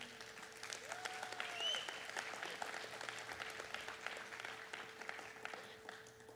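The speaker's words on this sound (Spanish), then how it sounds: "Así que denle un aplauso al Señor." Quiet, distant applause from a church congregation during a sermon, a thin patter of clapping heard at low level over a steady background hum.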